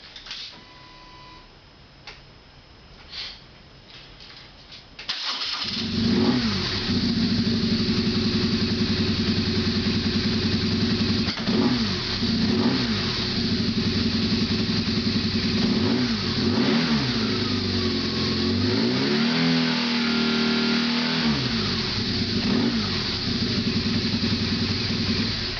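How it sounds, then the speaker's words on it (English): A 2006 BMW R1200S motorcycle on its standard exhaust: a few faint knocks, then the engine fires up after about five seconds and settles into a loud, steady run with repeated revs rising and falling, close by and alone. "This is a little demonstration, 2006 BMW R1200S. This is a standard exhaust."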